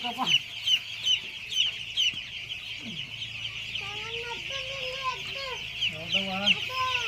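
Hens cluck repeatedly in short bursts at close range on a poultry farm, with more birds calling around them and a steady hum of farmyard activity.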